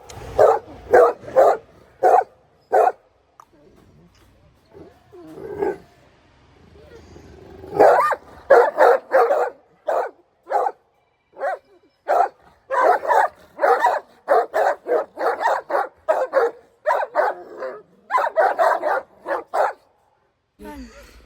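Dog barking in a rural Punjabi farm setting, repeated sharp barks in rapid bursts with a short pause in the middle, fairly close and loud, sometimes shading into yips.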